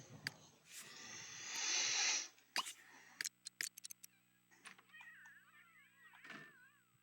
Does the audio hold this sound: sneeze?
no